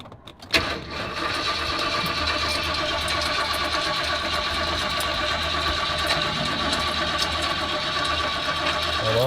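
An RV engine cranks briefly, then catches and settles into a loud, steady running roar, close by, with no talk.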